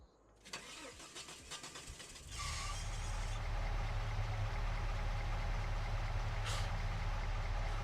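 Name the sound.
truck engine running in video game Farming Simulator 25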